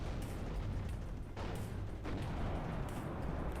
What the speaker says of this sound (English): Couple of Gazelle rockets, 3 in fact in total, coming up here